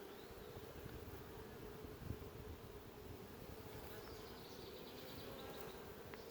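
Honeybees in an open hive frame during queen catching, a steady dense buzzing swarm hum close by, continuous and even throughout with no talking.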